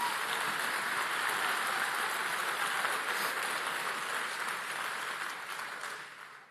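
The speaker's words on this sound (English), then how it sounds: "Let's give them another round of applause, folks." Sustained applause from a large crowd at a Turning Point Tour event, a dense, steady wash of clapping that holds loud for several seconds before thinning out toward the end.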